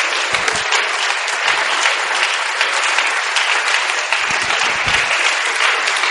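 A church congregation claps in praise with loud, dense, sustained applause and a few scattered voices underneath.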